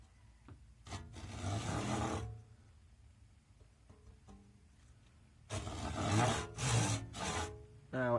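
A handsaw rasps through a wooden hammer handle in two bursts of steady back-and-forth strokes, separated by a quieter pause with small handling knocks.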